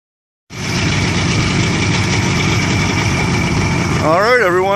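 A bass fishing boat's outboard engine idles at the dock before a tournament takeoff, starting abruptly and then holding a loud, steady rumble close by, with a wavering whine rising near the end.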